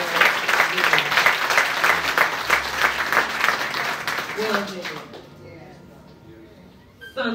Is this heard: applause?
yes